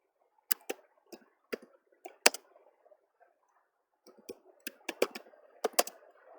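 Typing on a computer keyboard while entering text in a word processor: quick, close clicking keystrokes in two bursts separated by a short pause, with no talking.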